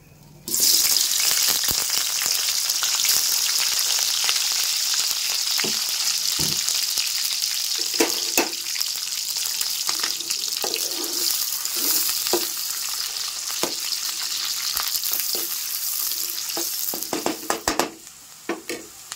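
Onions and green chillies frying in oil in a village-style kitchen, a steady loud sizzle throughout with occasional scraping stirs and clinks, ending abruptly near the end; no talking.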